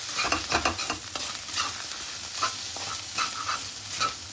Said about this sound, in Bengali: আদা লঙ্কা আর খুব সুন্দর একটু করে ভেজে নেব